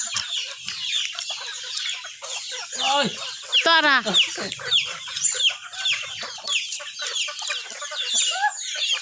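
Several chickens cluck and squawk nearby in a busy, irregular chorus, with a person briefly calling out among them.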